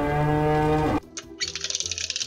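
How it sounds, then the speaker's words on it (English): A cow gives one long, loud, close moo that cuts off abruptly, followed by faint chirps and light background sounds. "The cow says..."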